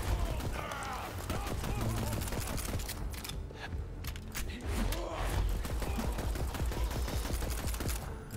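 Gunfire in the video game Borderlands 3, dense rapid bursts of shots and mechanical clatter in a busy, chaotic fight mix.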